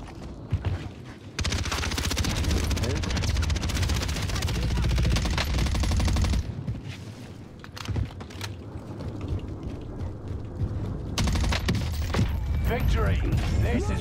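Automatic rifle fire from an XM4 assault rifle in the Call of Duty Vanguard Warzone game on Rebirth Island, long loud sustained bursts with brief gaps, mixed with game sounds and an announcer voice.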